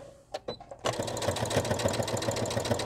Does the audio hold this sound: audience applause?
no